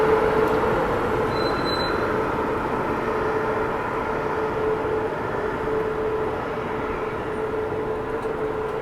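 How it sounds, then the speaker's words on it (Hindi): The Pune–Saupaul Express rolls past close by in a continuous, loud, even roar of wheels and carriages, with no voices over it. "ये रही अपनी पुणे सुपौल एक्सप्रेस"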